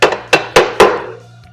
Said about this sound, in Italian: sempre con il martello, lo andiamo a incastrare